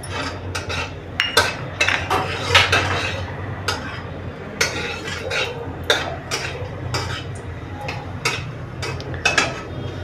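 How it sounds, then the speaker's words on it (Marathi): Cloves and cinnamon dropping into a pan for Kesari Bhaat sweet rice, with sharp metallic clinks and a spoon scraping and tapping against the cookware at an irregular rhythm over a soft background hum. "आता आपण याच्यात लवंग आणि दालचिनी टाकून घेऊ."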